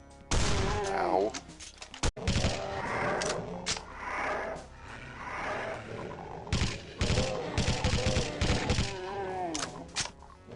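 A weapon in the FreeDooM shooter game fires a few sharp, scattered shots, the loudest early on, mixed in among ongoing talking voices.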